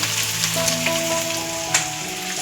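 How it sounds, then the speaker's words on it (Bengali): Chicken fries in a pan on a home kitchen stove, giving a steady, close sizzle with faint crackles and a few brief stirring clinks throughout. "চিকেনটা হচ্ছে ওদিকে"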